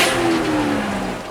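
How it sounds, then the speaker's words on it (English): A 2019 BMW X7 xDrive40i SUV exhaust note under acceleration, a brief rising engine tone that sweeps upward and then eases, heard alone and close. "Exhaust note."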